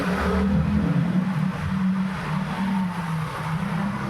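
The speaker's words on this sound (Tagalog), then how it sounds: "Let's say marami pa rin mga sasakyan." Steady rumble of road traffic on a busy town street at year's end in Bangued, Abra, with cars passing continuously nearby, engines droning low and constant for the whole stretch.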